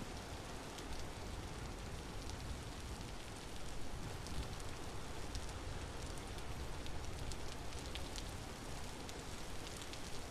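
Steady rain falling in the video game Vintage Story, a soft continuous hiss of drops with no distinct thunder, even and fairly faint throughout with no talking.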